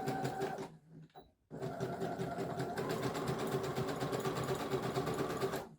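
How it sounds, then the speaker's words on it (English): A sewing machine zigzag-stitches along the raw seam allowance edge of fabric for pyjama pants, a loud, fast rattling whir that stops briefly near the start, then runs steadily to the end. "you can now put just the seam allowance under the machine and zigzag down the edge"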